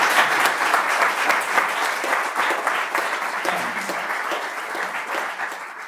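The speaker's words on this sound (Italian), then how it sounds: "Quindi questo c'è davvero da farci un applauso." An audience at a Blender conference talk breaks into sustained applause, dense clapping that stays strong and then eases slightly toward the end.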